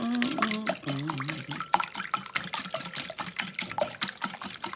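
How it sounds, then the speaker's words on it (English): Eggs whisked in a bowl in a home kitchen, a rapid regular clicking and sloshing of the whisk against the bowl that runs throughout, with a voice briefly heard at the start. "You want to whisk these eggs up."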